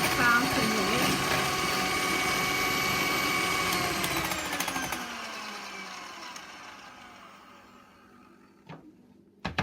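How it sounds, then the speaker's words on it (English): Electric mixer whisking a lemon mousse mixture toward fine peaks, a steady motorized whir that slowly winds down and fades near the end, followed by a couple of faint knocks, with a voice talking over it. "You don't need to over whisk it, but probably for about a minute."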